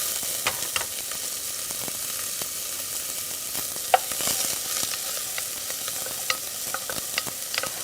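Chopped onion sautés in a pan for butternut squash soup, giving a steady bright sizzle broken by soft scraping stirs and a few sharper taps of the spoon.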